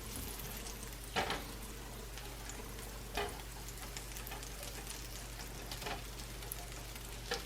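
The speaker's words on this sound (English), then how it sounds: "Okay, my pan now probably hot enough. We will melt butter first." Butter melting in a hot pan over medium heat before stuffed mushrooms are fried, a soft, steady sizzle with a few brief louder pops and scrapes.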